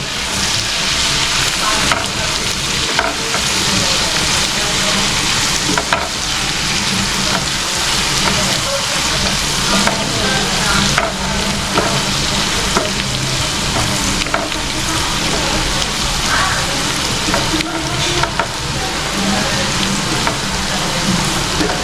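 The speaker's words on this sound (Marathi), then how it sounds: "आलं लसूण सुद्धा व्यवस्थित फ्राय झाला पाहिजे" Ginger and garlic fry in hot oil for a smoky chicken angara, a steady close sizzle with the scrape and clatter of a spoon stirring the pan repeatedly throughout, no voices.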